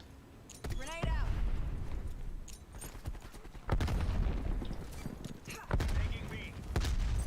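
A blast from a grenade or Molotov goes off in an online shooter match among bursts of gunfire and impacts, with a player talking over the combat.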